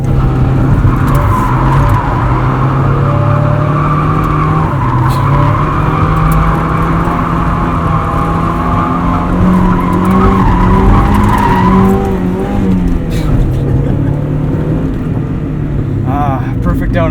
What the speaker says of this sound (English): Perfect donuts every time.